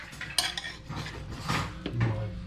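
Metal cutlery clinks against a dish in a home kitchen during Filipino pancit cooking, a few sharp close taps over a low background hum with no talking.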